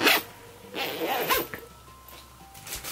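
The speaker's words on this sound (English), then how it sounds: "And then there's this zipper on the top." A zipper on a Mickey Mouse ghost plush is pulled open, a short close rasping zip in a quiet room, with a few soft rustles and handling sounds around it.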